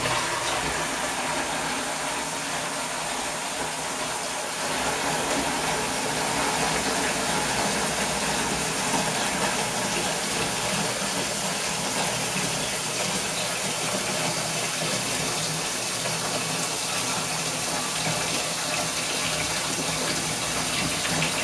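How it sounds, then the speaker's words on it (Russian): Water gushes steadily from a tap into a bucket of branches, a continuous loud hiss and splash that barely changes over the whole stretch, with no voices. "Вот налили мы воды в наше ведро"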